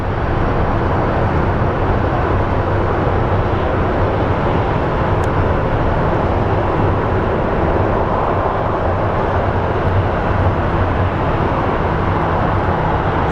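A JetBlue airliner at Phoenix Sky Harbor airport produces a steady, broad roar of jet engine noise, loud and unbroken throughout with no talk.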